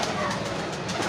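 Soft, continuous cooing of pigeons, several birds blending together, with a faint low rumble of background noise.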